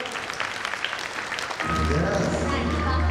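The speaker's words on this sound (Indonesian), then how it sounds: "Boleh kita berikan tepuk tangan yang meriah?" Audience applause breaks out at a launch and celebration night, a dense steady wash of clapping that rises midway, coming in after a host speaks and then continuing loud and sustained with a low hum underneath.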